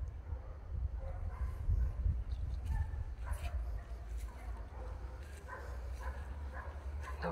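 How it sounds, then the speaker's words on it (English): Dogs bark and yip in the distance, scattered and somewhat faint, while people talk nearby over a low rumbling background. "Noisy dogs."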